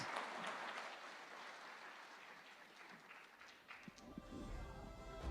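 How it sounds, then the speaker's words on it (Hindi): A studio audience at a TV9 interview event applauds Akhilesh Yadav, a faint crowd clapping that swells at first, dips midway and picks up again toward the end. "एक बार जोरदार तालियां अखिलेश यादव जी के लिए प्लीज।"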